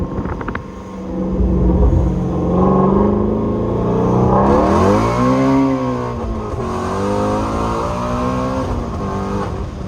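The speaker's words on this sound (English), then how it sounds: "I'm gonna give this car a little bit of a head start because I like banging gears on this road right here." A Ford Mustang GT350 with a manual gearbox accelerates hard on a straight road, its engine revving up loudly, dropping at a gear change around midway, then climbing again, heard close with wind noise.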